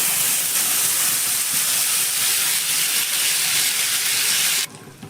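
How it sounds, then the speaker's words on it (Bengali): Spice paste dropped into hot oil for an egg curry sizzles loudly and steadily at close range, a dense frying hiss that runs almost the whole time before suddenly dropping away near the end. "এবার এই তেলের মধ্যে আমি পেস্ট করে রাখা মশলাটা দিয়ে দেব।"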